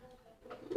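A brief, soft, low coo from a homing pigeon in a courting state, close by and quiet, rising slightly at the end.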